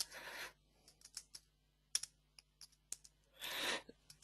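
Keys on a computer keyboard click in irregular, close, quiet taps, bracketed by two soft rustling swishes.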